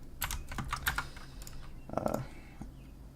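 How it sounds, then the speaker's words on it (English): Rapid computer keyboard typing during a Minecraft session, clusters of clicky keystrokes close to the mic, irregular bursts with a louder flurry near the middle, no talking. "I'm sure you guys can hear my keyboard very loud."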